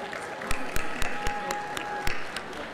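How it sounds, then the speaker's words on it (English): At a teacher of the year banquet, a few people clap in slow, separate beats, each one sharp and distinct over a murmuring room, with a steady tone running underneath. "Let's give one more round of applause for all of our Region 3 Teachers of the Year."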